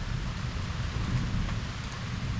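A severe, electrically active thunderstorm over Liège, Belgium, with steady heavy rain pouring down and a low continuous rumble of thunder beneath it, with no voices.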